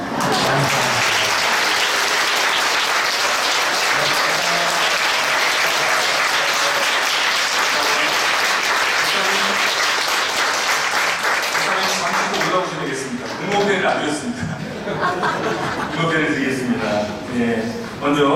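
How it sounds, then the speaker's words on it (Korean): A church congregation applauds during a ceremony honouring a retiring senior pastor, dense and sustained clapping that thins in the last seconds as voices come through. "박수 치면 내려가겠습니다."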